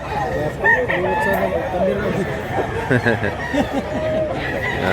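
A gamecock offered for sale in Mantalungon, Cebu crows loudly and close by, its call rising and falling over about five seconds, with voices audible around it.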